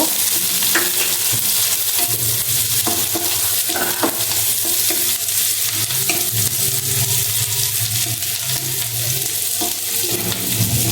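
Onion and garlic with cumin seeds and dried red chillies fry in a pan, a steady close sizzle running throughout with occasional stirring scrapes and no voices.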